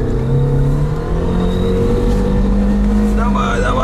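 A Lada Niva with locked differential in second low gear roars at full throttle climbing a hill, a loud, strained engine drone rising in pitch, with a voice heard over it.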